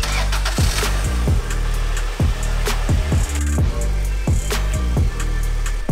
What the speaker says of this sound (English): Wow, the engine cranked right up.